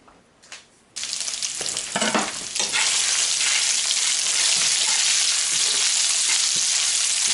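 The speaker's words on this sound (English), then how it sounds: "we're going to take our bacon. I'm going to throw that in the pan" Bacon drops into a hot pan and bursts into a loud, continuous close sizzle that holds steady after a brief quieter start.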